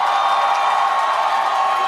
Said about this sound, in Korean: 여러분의 뜨거운 박수와 함성으로 맞이해 주십시오